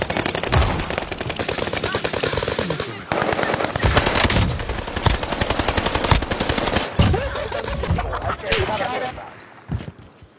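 Rapid bursts of video game automatic gunfire, loud and nearly continuous, with brief pauses and a voice occasionally heard underneath.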